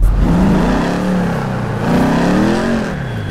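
A Z-Type car engine in GTA 5 revs loudly, rising and falling in pitch through a couple of throttle swells, close and dominant with no speech.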